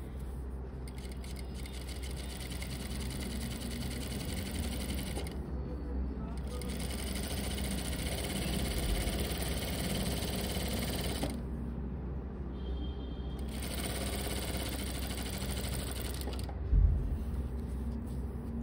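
Sewing machine stitching fabric strips for formal pants, a faint steady hum running in long stretches broken by a few short pauses.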